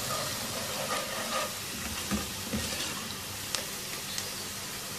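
Chopped medium-sized onion frying in a pan with spices, giving a steady soft sizzle and hiss throughout with a few faint clicks, no voices.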